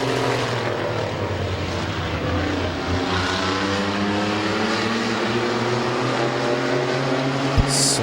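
Race cars roar around a dirt speedway, sliding sideways through the turns, a loud continuous engine drone with shifting pitch as the pack passes, fairly close and without talk.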